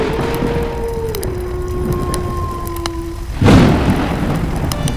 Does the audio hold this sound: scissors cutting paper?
no